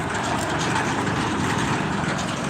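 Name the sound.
road traffic with trucks at market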